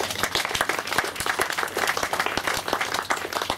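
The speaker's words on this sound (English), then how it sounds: "round of applause please" An audience bursts into a full round of applause, a thick, rapid patter of many people clapping together, sustained and fairly close with no break.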